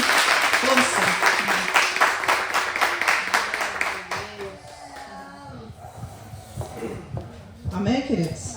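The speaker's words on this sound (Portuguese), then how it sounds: "Pode aplaudir o Senhor também." Church congregation clapping together in praise, a sustained patter of many hands for several seconds that tapers off, then a voice speaks and the room settles with murmurs.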